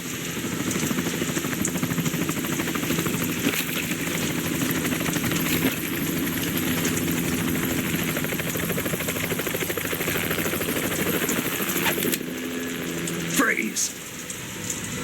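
Helicopter rotor and engine drone mixed with steady rain on surfaces in a rainy scene from the video game Metal Gear Solid 2, continuous and fairly loud throughout, with a brief tonal sweep and shift near the end.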